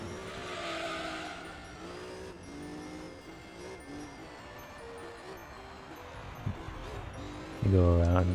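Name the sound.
TVR car sliding, tyres skidding, in Gran Turismo video game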